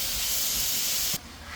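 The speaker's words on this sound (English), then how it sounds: "Next we'll proceed to frying our shrimp." Shrimp fry with garlic cloves in a hot pan for a stir-fry, a loud, close, steady sizzling hiss that drops abruptly to a quieter crackle partway through.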